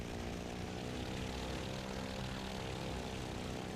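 Propeller aircraft engine in the IL-2 1946 flight combat game, a steady loud droning roar held evenly throughout with no talk over it.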